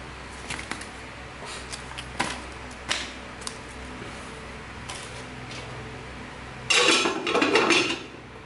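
A Japanese frying pan being handled in a kitchen, giving a few light metallic clanks and taps followed by a louder cluster of rattling knocks near the end, close and without talk.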